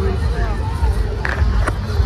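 Large crowd gathered for a palkhi procession, a dense steady hubbub of many voices with a couple of brief sharp claps or knocks near the middle.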